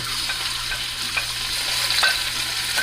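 Onions sizzle and crackle in hot oil in a frying pan, a steady close frying hiss with occasional stirring clicks and no talking.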